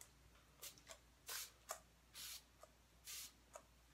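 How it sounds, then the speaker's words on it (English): MAC Fix Plus setting spray misted in short pumps: three or four quiet, hissing bursts spaced about a second apart, with faint clicks of the nozzle between them and no talking. "let's go in with some setting spray. Just going to use some MAC Fix Plus"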